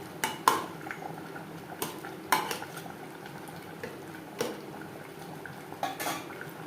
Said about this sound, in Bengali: এভাবে ঢাকনা সরিয়ে মাঝে মধ্যে এক দুবার নাড়াচাড়া করে দিয়েছি